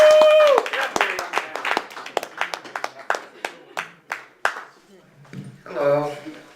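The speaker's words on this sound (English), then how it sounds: "Please give him a round of applause." Audience at a New York comedy club clapping for a comedian, starting as dense applause and thinning into distinct claps that slow and fade over several seconds, with a voice and a brief tone at the start and speech at the end.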